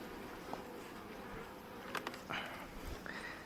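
Honeybees hum inside an opened hive box at an apiary in Bulgaria, a steady close buzz with a few brief louder passes of individual bees near the listener.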